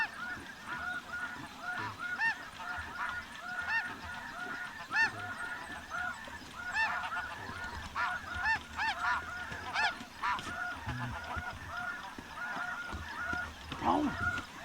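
Spring snow geese honk in a dense, continuous flock chorus over a decoy spread during a hunt, loud and near, with a few low voices talking faintly underneath.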